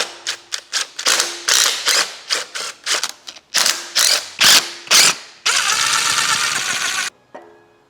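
A ratchet wrench clicks through a series of short, loud, close bursts to break loose a bolt during a BMW E36 engine teardown, followed by a longer continuous mechanical whirr and a brief final click.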